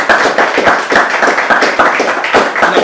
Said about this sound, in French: ça mérite des applaudissements, s'il vous plaît.